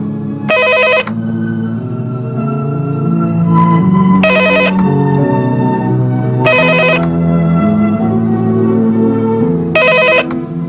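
A telephone rings in four separate bursts spaced a few seconds apart, bright and clear over a steady background of music.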